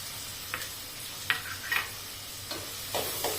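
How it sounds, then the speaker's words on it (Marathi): Crushed garlic and two medium onions sautéing in a pan for dal palak, a steady hiss of frying broken by several brief spatula scrapes and stirring clicks spaced through the clip. "हे परतून घेऊ कांदा आपल्याला जास्त लाल करायचा नाही आहे"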